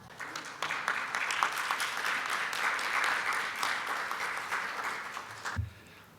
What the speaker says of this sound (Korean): 여러분 큰 박수로 단상 위쪽으로 모시겠습니다.